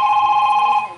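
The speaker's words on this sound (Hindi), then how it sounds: "अरे नो है ना, रिंगटोन दूसरा है।" A mobile phone ringtone plays as a steady, bright electronic tone for about a second, clear and fairly loud, then tails off at the end.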